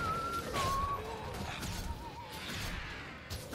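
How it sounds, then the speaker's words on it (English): A character in the video game Guild Wars 2 whistles a few short, wavering notes over busy combat sounds with thuds and swooshes. "He's whistling at a time like this."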